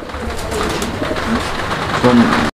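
A pair of Telmark pigeons coo softly nearby, a few low murmuring calls over a steady rustling background.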